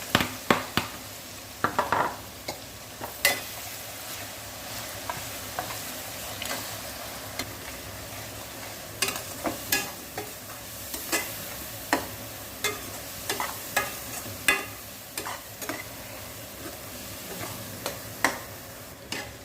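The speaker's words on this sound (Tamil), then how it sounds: "இப்போ புதினா கொத்தமல்லி கருவேப்பிலை நல்லா உங்களுக்கு வதங்கணும்" Mint, coriander and curry leaves sautéing with a ground paste in a pan for a thokku, a low steady sizzle broken by frequent sharp scrapes and taps of a spoon stirring, close and with no talking.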